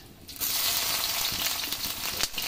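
Raw onion dropped into a hot pan of oil with cardamom on lowered heat, a sudden loud sizzle that bursts in and holds as a steady crackling hiss, with no talk.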